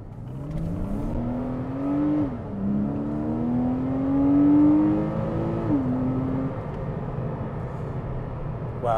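A Porsche Cayman 987 Gen 2 with a PDK gearbox, in Sport mode, accelerates hard from inside the cabin. Its engine note climbs steadily and drops twice at quick gear shifts, loud and continuous with no talking.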